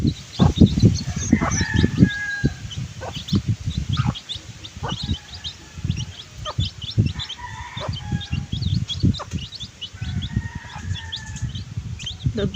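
Chickens cluck repeatedly nearby, with short calls scattered in an irregular rhythm and a low thumping and rustling underneath.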